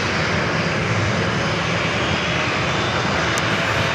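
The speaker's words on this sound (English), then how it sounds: "Next arrival is that Hawaiian A321neo coming in from Honolulu" A Hawaiian Airlines Airbus A321neo jet arriving from Honolulu at San Diego airport gives a loud, steady, unbroken roar of engine noise that holds at an even level throughout.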